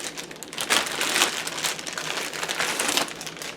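A plastic bag crinkles and crackles steadily as it is worked off a Sonicking 3-9x40AO rifle scope packed with a lens cleaning cloth, close and fairly loud, with no talk.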